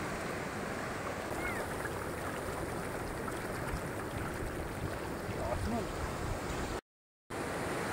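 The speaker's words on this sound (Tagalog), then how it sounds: "Lumalakas na yung alon." Continuous rushing surf with strengthening waves washing in steadily at Tondol Beach, Pangasinan, mixed with wind noise, briefly cutting out near the end.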